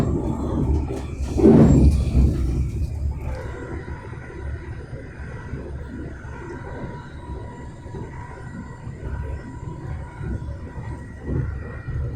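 A passenger train rumbles steadily on its approach into Alloa station in Scotland, with a louder swell of wheel and track noise early on before settling into a continuous low drone.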